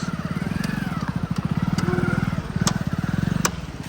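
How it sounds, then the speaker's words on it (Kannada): A motorcycle engine putters steadily at close range with a rapid, even throb, holding loud throughout as it rolls past; faint clicks and crackles overlay it. "ಓ ಇದೊಂದು ಬೈಕ್ ಹೊಂಟೈತೆ"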